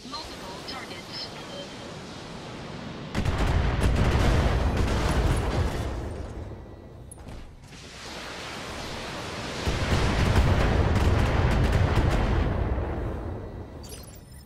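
Mech weapons in the Battletech video game firing at several targets at once, two long roaring barrages of blasts and rumbling impacts, broad and loud, separated by a brief lull, with speech occasionally over them.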